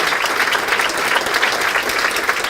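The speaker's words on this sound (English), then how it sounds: "and a round of applause." An audience at a Chamber of Commerce awards event applauds, a dense and steady wash of clapping from many hands, loud and close throughout.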